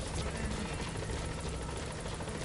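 Helicopter hovering at a landing zone in Metal Gear Solid V, a constant close rotor roar with rapid thudding blade beats filling the clip.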